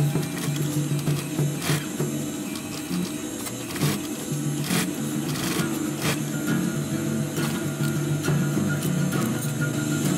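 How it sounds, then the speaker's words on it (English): A sewing machine stitches a box cross pattern through folded webbing for a multi-tool pouch. The needle chatters in a rapid, steady run up close, broken by occasional sharper knocks, with no talking. "let's start sewing. I'll be sewing a box cross"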